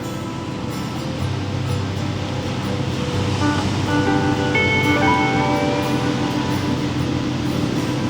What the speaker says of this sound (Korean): 엄청나게 들리는 파도 소리입니다.